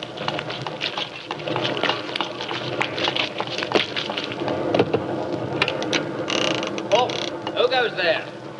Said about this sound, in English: Good Lord, it's pelting with rain.